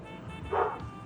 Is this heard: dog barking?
yes